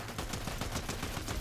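Rapid gunshots in Fortnite: a fast, even string of cracks, like automatic fire, runs steadily through the whole short stretch at moderate loudness.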